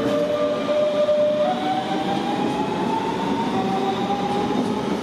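S-Bahn train at Frankfurt main station, loud and close, with a steady rumble and rising wheel and motor tones that hold throughout, no voices.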